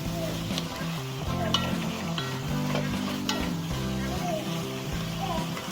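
A thick coconut candy mixture is stirred in a pot, with steady bubbling and scraping strokes of a spoon running throughout, while a voice talks faintly over it.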